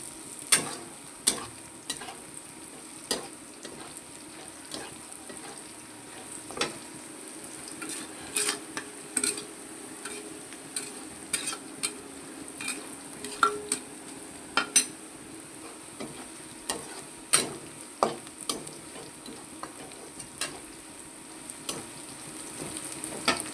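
Duck meat fries in a pan with a soft continuous sizzle, cut through by frequent sharp clicks and scrapes of a spatula against the pan, heard close with no voices.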